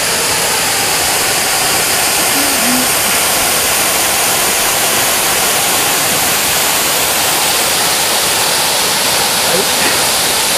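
Waterfall in Oku-Mikawa, Aichi, one of Japan's top hundred falls, roaring in a loud, steady broadband rush that never lets up, with faint traces of a voice beneath the water.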